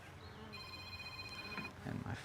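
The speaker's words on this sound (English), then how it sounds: "And my phone's ringing." A phone rings with a steady electronic tone during a beehive inspection outdoors, lasting about a second, over low background noise and faint handling sounds.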